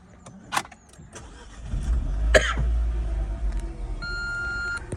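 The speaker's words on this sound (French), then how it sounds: "Je vais vous démarrer le véhicule." A Renault Clio IV Intens engine starts from inside the car: a brief whirring crank swells into a low, steady idle, with faint dashboard chimes and beeps over it.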